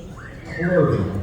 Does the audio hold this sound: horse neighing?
yes